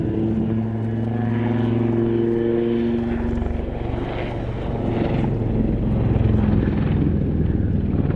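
A Westland Wildcat HMA-2 naval helicopter hovers close by at an air display, its loud, steady rotor and turbine drone holding strong tonal hums that swell slightly toward the end, with no voices over it.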